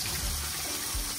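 Hot water pours from close by over ice, a steady rushing gush with two heavier splashes, loud and without speech.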